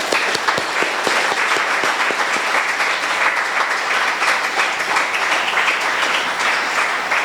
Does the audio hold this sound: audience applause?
yes